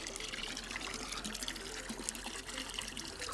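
Water from a cold plunge tub is poured back into a pool, with a continuous splashing, gushing stream heard close and loud throughout.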